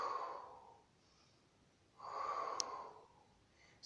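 A slow exhale during a stretching exercise, arms reaching overhead one after the other, heard as two soft, airy breaths close to the listener, each lasting about a second, with quiet pauses between and no talking.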